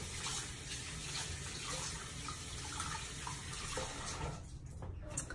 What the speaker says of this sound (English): So I'm gonna wash my hands and get all the extra gel off.